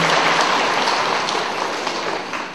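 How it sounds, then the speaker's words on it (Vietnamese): A hall audience applauds during a Buddhist dharma talk by a monk, giving a dense, steady round of clapping that fades slightly toward the end. "Cho một tràng pháo tay cho lớn."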